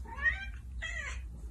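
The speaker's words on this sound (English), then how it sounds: "My sweet cat." A cat gives two clear meows close by, each a drawn-out, wavering call with a short pause between them, over a low background hum.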